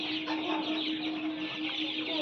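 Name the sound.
broiler chickens clucking on a poultry farm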